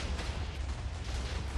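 Artillery cannons firing in the robot-combat game Wargear, heard as a dense rumbling roar of low booms and bursts filling the short stretch without pause.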